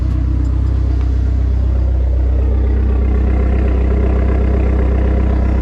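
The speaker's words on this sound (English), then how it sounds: "Started right up. It's idling pretty good." A Dodge SRT-4 car engine idles steadily just after starting on a cold day, a loud, even, continuous rumble close by with no other sounds.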